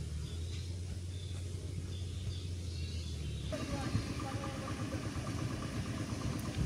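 A boat's motor on a riverbank where sand is rising and a char forms across the water, rumbling low and steady, growing stronger and fuller midway as it draws nearer.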